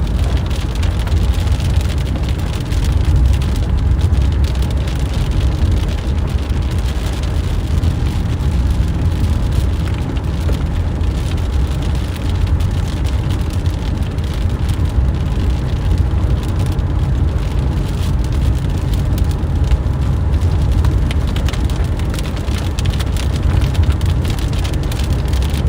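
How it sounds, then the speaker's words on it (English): Heavy rain drums on a car while it drives along a road during a tornado-warned supercell storm in southeast Missouri, a dense, loud, steady wash of drops over a low road rumble that never lets up. "It's hard to drive on these roads in the rain."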